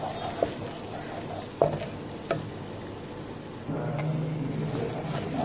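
Flour and butter being stirred together in a pan for white sauce, a faint soft sizzle with a few sharp utensil knocks, the frying growing slightly louder toward the end.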